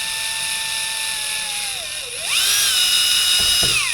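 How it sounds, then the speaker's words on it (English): A power drill whines at high speed boring holes into a Mirror dinghy hull, its pitch sagging under load then rising sharply and holding loud and close. "so we're drilling holes in the boat"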